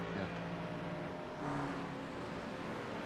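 Porsche race car engine in a racing video game at Circuit de Barcelona-Catalunya, a steady droning hum that swells briefly mid-way, running continuously under the mix.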